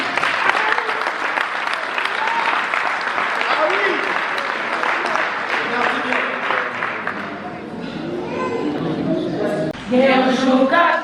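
A church congregation at a Sunday ordination service keeps up sustained applause, and voices rise over the clapping near the end.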